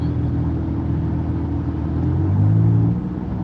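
Car engine on a road with traffic, a steady low rumble that rises and swells as the driver presses the gas, then eases slightly.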